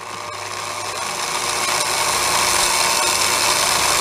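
Electric drill on a speed controller set low, held in a homemade bench-grinder and buffer stand, whirring steadily and close, growing slightly louder and holding a constant hum throughout.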